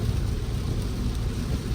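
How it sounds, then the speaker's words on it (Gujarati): Monsoon rain pours steadily as a loud continuous hiss in Gujarat, near Unjha and Mehsana, with no voices. "જો વરસાદી માહોલ બતાવો ખાલી."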